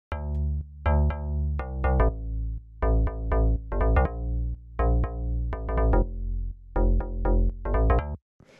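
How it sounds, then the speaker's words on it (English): Layered basses in a chill house track play root notes of chords together, sounding as loud, deep, punchy chopped notes in a steady syncopated rhythm that runs through the whole stretch and stops abruptly near the end. "And the basses all together sound like this."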